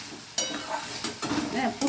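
Spoon stirring a thick, sticky banana stem curry (thor ghonto) in a pan, with a few scraping strokes and a soft sizzle between them, close and moderately loud.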